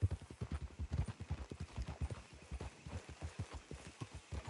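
Rapid, rhythmic hoofbeats from several horses in a PS4 video game clip-clop steadily and close by, a continuous trotting patter without talking.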